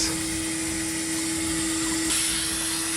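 A vacuum cleaner drones steadily and close by while sucking dry fluff out of an Indesit IDC 75 condenser dryer, holding a constant whine with a slight shift in pitch partway through.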